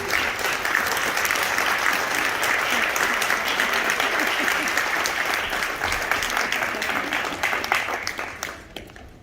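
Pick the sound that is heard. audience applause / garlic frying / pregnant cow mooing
audience applause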